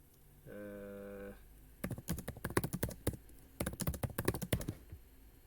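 Rapid clattering keystrokes on a computer keyboard come in two close bursts of typing after a short steady electronic tone, loud and near with no talk.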